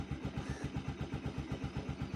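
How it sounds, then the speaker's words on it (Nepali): A motorcycle engine runs at a steady idle after starting, its low, even chugging pulsing in a regular rhythm, close and moderately loud with no talk. "म एकछिन बाइकलाई एकछिन चाहिँ स्टार्ट गरेर राख्न चाहन्छु"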